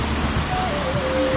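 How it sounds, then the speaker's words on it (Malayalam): Light drizzle falls outside as a steady, soft wash of rain noise, fairly close and continuous, with a faint tonal whine drifting underneath. "പുറത്ത് ചാറ്റൽ മഴയുണ്ട്"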